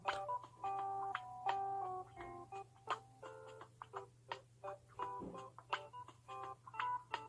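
Telephone keypad tones beep in quick succession as a number is dialed, short bright chimes in irregular bursts over a faint steady hum, with no talking.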